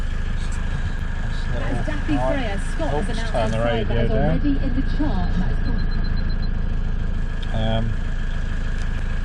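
A Land Rover Defender with its engine warning light on runs as a steady low drone inside the cabin, continuous beneath a person talking throughout.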